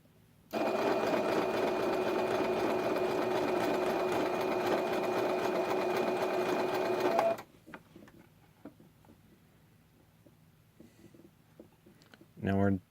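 A sewing machine runs one continuous stitching burst of about seven seconds along a fur sleeve seam, then stops. Quiet handling clicks and a short buzzing burst follow.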